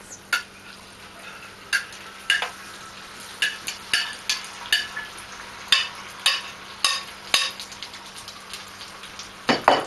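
An egg, potato, pepper and onion mixture cooking in an oiled skillet, with a steady soft sizzle beneath about a dozen sharp scraping and tapping strokes of a utensil against the pan, close and evenly paced.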